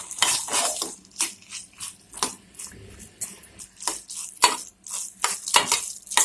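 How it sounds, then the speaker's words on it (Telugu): Spoon stirring and mixing festival prasadam in a metal pot for Varalakshmi Vratam, with edible camphor and fried coconut pieces, giving repeated scraping, clinking strokes against the pot at an uneven close-up rhythm with short pauses. "బాగా కలిసేటట్టు కలుపుకోండి."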